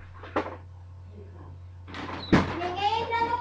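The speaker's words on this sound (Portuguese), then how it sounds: "fecha minha porta" A bedroom door thuds shut in a home, one sharp knock partway through, with someone talking before and after it.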